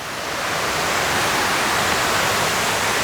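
Aruu Falls in Uganda pours as a loud, constant broadband roar of falling water, steady and close with no voices over it.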